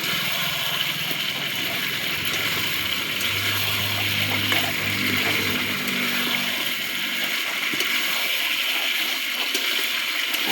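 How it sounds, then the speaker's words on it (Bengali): Water poured into a pot of frying meat and potato curry: a continuous rushing gush with bubbling sizzle underneath, close and steady for the whole stretch. "আলুটা একটু ভালো করে নেড়ে নিয়ে পরিমাণ মতো জল দিয়ে দেবো"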